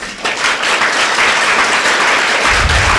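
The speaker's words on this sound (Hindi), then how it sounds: "एक बार ताली बजाएंगे जोर से।" A seated audience at a spiritual talk bursts into loud, dense clapping, a steady wall of applause close by for a few seconds without pause.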